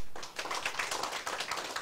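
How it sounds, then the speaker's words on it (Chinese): An audience at a Taiwanese civil government law seminar breaks into scattered, fairly faint clapping that continues steadily in a loose rhythm. "大家鼓掌一下"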